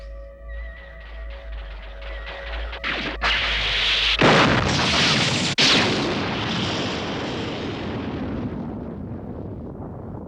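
An anime explosion bursts loudly in several heavy booms that roll into a long rumbling roar and then fade slowly, with no voices over it.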